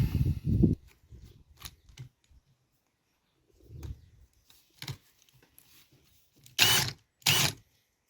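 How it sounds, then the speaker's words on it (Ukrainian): A valve lapping tool grinds a valve into its seat on a generator engine converted to run on natural gas, producing intermittent scraping and grinding strokes in short bursts separated by quiet pauses, with two louder passes near the end. "беремо нашу приспособу для притірки клапанів"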